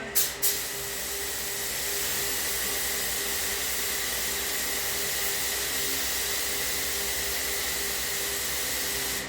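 Steady hissing spray from a paint spray gun applying lacquer, running continuously after a couple of brief pops at the start, with no talking.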